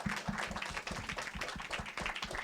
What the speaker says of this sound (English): So just a quick round of applause for Kevin.